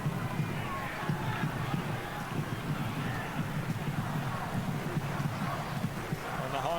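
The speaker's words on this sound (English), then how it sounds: "the home fans chanting and cheering" Home football fans in a stadium produce a dense, distant crowd roar with chanting and cheering, holding steadily throughout beneath commentary.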